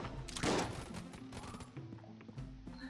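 Rapid gunfire in the dungeon-crawler game Enter the Gungeon, a loud burst followed by a string of quick, sharp shots and clattering effects.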